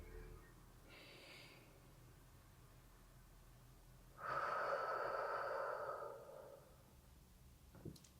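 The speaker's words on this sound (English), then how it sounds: "Take a deep breath with me." A single deep breath, a long airy inhale and exhale lasting about two seconds, close and fairly soft against a quiet background, with a brief faint sniff afterward.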